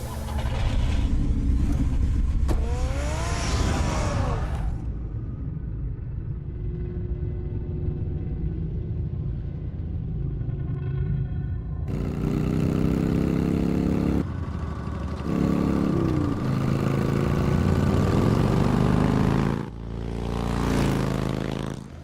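A car engine runs and drives in the Batman Telltale video game, a loud steady rumbling drone with shifting revs and whooshing bursts, alone without talk.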